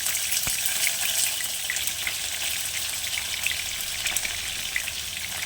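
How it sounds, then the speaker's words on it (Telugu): Sliced onions fry in hot oil after mustard seeds have spluttered, for a stuffed ridge gourd curry; a steady, close hiss of sizzling with faint scattered crackles runs unbroken throughout. "ఆవాలు చిట్టుపడిలాడిన తర్వాత స్టవ్ తగ్గించి ఉల్లిపాయలు వేసుకోవాలి"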